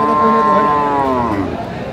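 A dairy cow at the Aftabganj cattle market in Dinajpur lets out one loud, close, drawn-out moo, with livestock market noise beneath.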